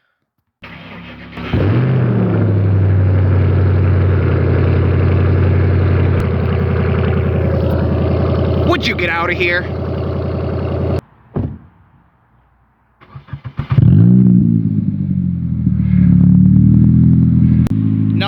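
A Toyota Matrix TRD's loud engine rumbles steadily and revs, cuts out briefly, then roars back up with deep, throaty exhaust; a brief voice is heard partway.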